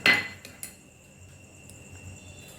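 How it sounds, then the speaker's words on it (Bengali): A metal spoon clinks sharply against a bowl while stirring whisked sour yogurt into a spice mixture for desi chicken, with a few bright taps followed by quieter scraping, close and alone. "সমস্ত কিছুকে খুব ভালো করে মিশিয়ে নেব।"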